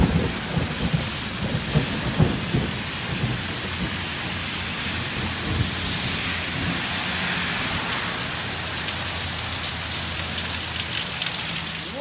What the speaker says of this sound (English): Look at that rain, everybody.